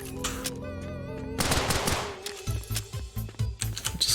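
An automatic pistol in the video game Unholy Commotion fires a quick run of sharp, clicky shots after a tonal musical passage, the rapid reports loud and close.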